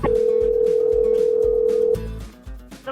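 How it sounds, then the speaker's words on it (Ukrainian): Telephone tone while calling the State Tax Service of Ukraine contact centre: one steady, loud tone holds for about two seconds, then cuts off and leaves quieter background noise. "Ми зателефонували до контакт-центру Державної податкової служби України."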